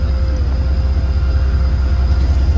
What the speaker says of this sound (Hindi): और ये छोटी लाइन की गाड़ी है